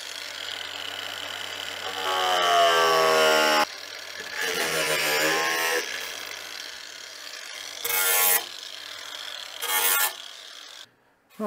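A power saw trims the back side of a wooden logging sleigh ski, its loud whining cut rising and falling in pitch over several seconds, with short breaks and changes in load as the blade works through the wood.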